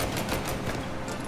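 Gunfire in the video game Mafia: Definitive Edition, a dense loud burst of rapid overlapping shots filling the whole moment.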